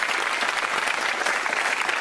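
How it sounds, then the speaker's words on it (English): Studio audience applause on the Countdown game show, a steady, dense wash of clapping that stays loud and even throughout, with no voices over it. "Big round of applause then"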